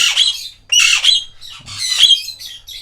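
A breeding pair of Alexandrine parakeets squawks loudly at feeding time, harsh shrill calls repeated in close bursts with brief gaps between them.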